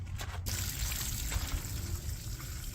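Water runs steadily through an outboard motor, a continuous faint trickling flow with low background hum and a brief clatter at the very start.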